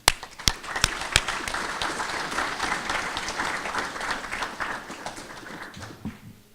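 A few sharp, separate claps open, then a crowd joins in a full round of applause for organizers at a STEM collaborative gathering, holding steady before tapering off at the end.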